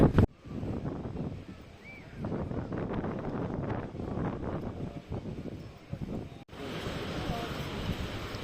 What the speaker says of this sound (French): le sable, là, il y a du vent